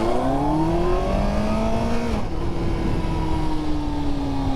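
A 2025 Kawasaki Ninja ZX-14R engine pulling hard on a track, a loud steady roar rising in pitch, briefly shifting gear, then climbing again.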